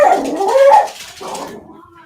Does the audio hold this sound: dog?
yes